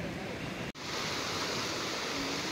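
Gentle sea waves at Nandgaon beach in Murud, Raigad, a steady soft wash of surf with one brief cut, no talking.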